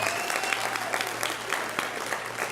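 Conference audience applauding and cheering throughout, dense steady clapping with scattered whoops, fairly close and loud.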